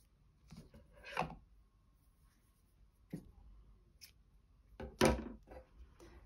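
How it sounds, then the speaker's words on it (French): Scissors cutting crochet yarn make a few quiet, separate snips and rustles against a near-silent background, each a short dry crunch spaced a second or two apart. "je vais couper mon fil"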